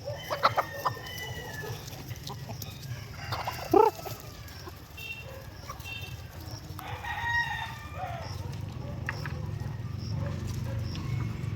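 Rhode Island chickens on a farm cluck and crow in short bursts, with one louder squawk near the start, over a steady low rumble of background noise and no talking.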